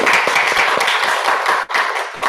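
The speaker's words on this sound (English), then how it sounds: "Please give applause for Mbak Dwi" An audience at an oral research presentation session applauds, a smaller group with distinct individual claps in a continuous patter that dips briefly near the end and then resumes.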